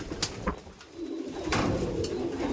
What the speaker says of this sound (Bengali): রেসিং পায়রা